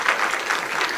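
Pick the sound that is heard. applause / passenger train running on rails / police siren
applause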